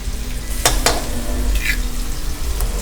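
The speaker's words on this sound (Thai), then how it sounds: "ผัดสองสิ่งให้หอมน้ำให้สุกน้ำมันนะครับสุกกลิ่นหอมนะครับ" Pounded chili and garlic stir-fry in hot oil for a basil stir-fry, making a steady close sizzle broken by a few quick scraping strokes of a spatula in the pan.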